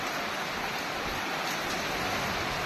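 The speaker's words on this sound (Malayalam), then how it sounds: "നല്ല അടിപൊളി മഴ" Heavy rain pours steadily, a dense, even hiss of falling water that fills the whole stretch without letting up, with no voices over it.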